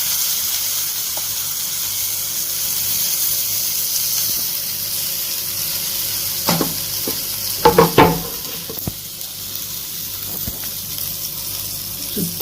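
Batter made with peanuts fries in oil on a hot pan, keeping up a steady soft sizzle and hiss. A few sharp clatters of utensils sound near the middle, and no one talks.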